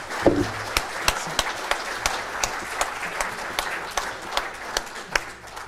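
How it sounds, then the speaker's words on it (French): Conference attendees applaud after a talk on naval strategy, a room of many hands clapping steadily for several seconds with a few louder individual claps standing out, near and continuous. "je crois qu'on peut l'applaudir"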